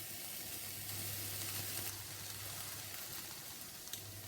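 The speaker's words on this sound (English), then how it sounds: "peppers and onions have been frying for a couple of minutes" Peppers and onions frying in a pan give off a steady, dense sizzle that holds evenly throughout, close up and with no voices.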